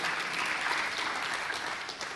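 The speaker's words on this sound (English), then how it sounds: "Round of applause for him, please." Sustained audience applause at a startup discussion panel welcoming a panelist, a steady dense wash of clapping from a crowd filling the whole moment without speech.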